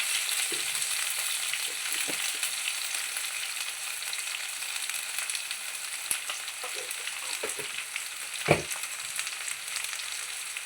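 Potatoes and turmeric fry in a ginger-chili paste with a steady, even sizzle. A few soft stirring knocks and one sharper clank punctuate it, all close and without speech.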